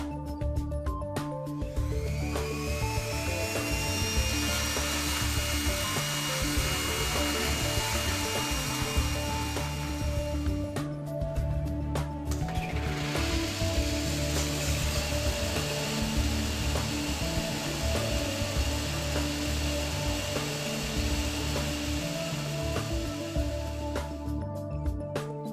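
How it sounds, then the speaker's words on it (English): Steady high-pitched grinding as material is removed from a turbocharger rotor during two-plane balancing, a continuous abrasive whine over a constant machine hum, briefly interrupted about halfway through. "this is the moment when we have to remove material from the rotor"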